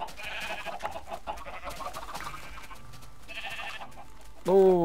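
Sheep in the Minecraft video game give several short, nasal bleats spread over a few seconds, with a sharper rising game sound at the end.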